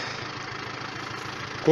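A Yanmar FX 305 compact tractor engine idles with a steady low rumble and a soft rhythmic knock. A short louder tonal burst comes near the end.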